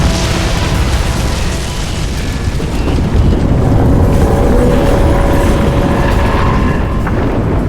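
A large explosion in Crysis 2 on Xbox 360 roars loudly and continuously, a dense low rumble that swells into a heavier boom about three seconds in and keeps thundering to the end.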